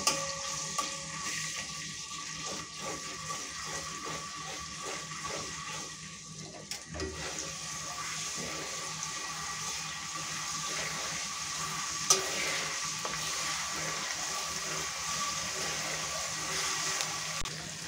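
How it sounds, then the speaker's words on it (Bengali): Garlic and ginger paste fry in hot oil, making a continuous broad, hissing sizzle that holds steady throughout, with an occasional faint clink of a utensil and no voices. "এখন এই মশলাটা হালকা একটু ভেজে নেব।"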